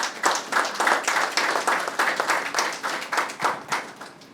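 Hands clapping in an audience at an academic forum on Central American independence, a lively, fairly close round of applause with distinct claps, sustained for several seconds.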